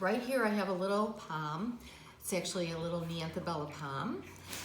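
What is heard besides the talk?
No everyday noises stand out.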